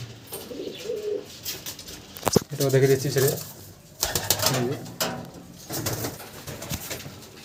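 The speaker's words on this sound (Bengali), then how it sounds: "এই যে একজোড়া পায়রা," Pigeons kept for sale in Ranaghat give several close, soft coos in short bursts, with brief clatters between them. Someone speaks briefly in between.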